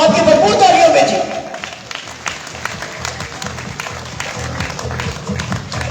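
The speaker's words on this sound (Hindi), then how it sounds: "तालियां बजा लेना चाहिए यार चैंपियन के लिए" An audience claps for a champion at a trophy prize-giving ceremony in Rawalpindi-Islamabad; the applause is fullest at the start, then thins into scattered claps beneath someone talking loudly.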